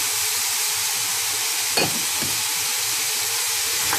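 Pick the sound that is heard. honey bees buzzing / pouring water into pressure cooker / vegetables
vegetables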